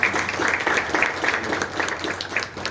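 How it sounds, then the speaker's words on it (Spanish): Audience at a Guarani language and culture gathering applauding for a thirtieth anniversary, steady dense clapping throughout with some faint voices mixed in. "Quiero pedir para todos un aplauso por los 30 años de la"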